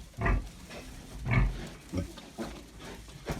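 Soft grunts and snorts from a sow and piglets come in short bursts at a steady pace, close by, with no talking.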